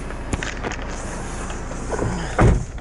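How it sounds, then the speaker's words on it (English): A Honda CR-V door is shut once at a dealership, giving a single firm thump near the end after a quieter stretch of handling noise and a couple of faint clicks. "Just close the door."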